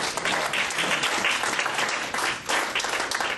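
Audience applause after a presentation on spiritual intervention in 12-step recovery: steady, dense clapping from a crowd for a few seconds, with a brief dip near the end before it swells again.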